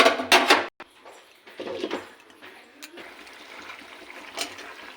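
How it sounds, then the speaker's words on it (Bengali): Water poured into a pan of Bengali sharputi fish curry gives a loud, splashy pour at the start, then a short break, then a softer trickle and a steady low hiss, with the clatter of a pan in between. "এবার দিয়ে দেবো জল পরিমাণ মতো"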